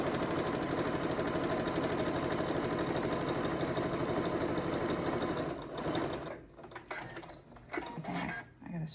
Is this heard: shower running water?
no